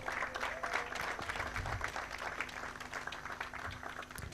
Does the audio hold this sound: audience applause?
yes